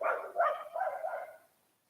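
Dogs barking, a short run of three or four muffled barks in quick succession that trail off into silence.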